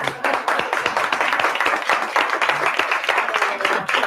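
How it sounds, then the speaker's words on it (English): An audience claps steadily in a dense round of applause at a talk, the many hands forming a continuous, fairly loud patter throughout with no speech over it. "give yourselves a very strong round of applause"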